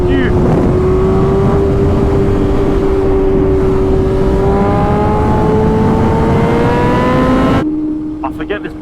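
A 1000 cc motorcycle engine revs loudly and steadily while riding, with a rising whine held close. It drops away abruptly near the end as the bike slows.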